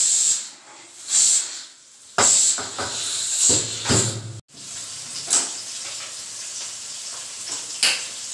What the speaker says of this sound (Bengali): এদিকে একটা সিটি পড়ে গেছে।